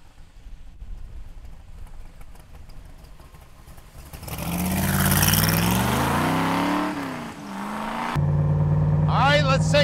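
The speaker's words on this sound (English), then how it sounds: "let's take a Superformance Cobra for a ride" A 1965 Shelby Superformance Cobra with a big block engine drives off, its idle rising into a loud revving climb through the gears and dropping briefly before pulling hard again; a voice talks over the start.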